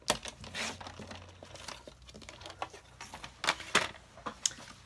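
A paper trimmer slicing through cardstock while making a greeting card, with a series of close, crisp scraping and clicking strokes that come in irregular bursts.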